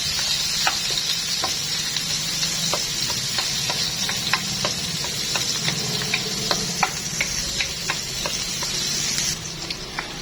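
Onions and garlic sauté in a hot pan for chicken tinola, a steady loud sizzle with bright crackles and pops scattered throughout, without any talking.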